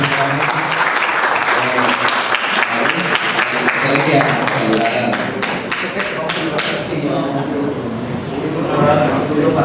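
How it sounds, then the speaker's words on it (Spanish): Audience applause closing a religious debate, a dense sustained wash of clapping from a crowd that carries on for several seconds, fairly close and loud. "Vamos a darle un fuerte aplauso al señor."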